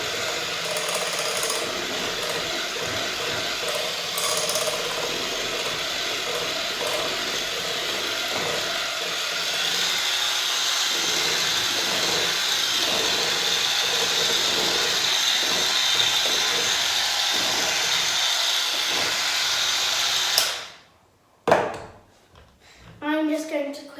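An electric mixer on a high setting whisks creamed butter and icing sugar for Halloween biscuits, a steady loud whirring and rattling drone over a long stretch that stops abruptly near the end, with some talk over it.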